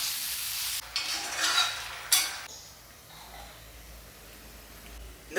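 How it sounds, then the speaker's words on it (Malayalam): Yam and soya chunks curry is stirred in a clay pot, with a few scraping, sizzling strokes of a spoon against the pot followed by quieter simmering and light clinks. "ഇനിയിപ്പോൾ കിഴങ്ങും സോയാ ചങ്ക്സിൻ്റെ അതും അതിട്ട് നന്നാക്കി ഇളക്കിയെടുക്കാം"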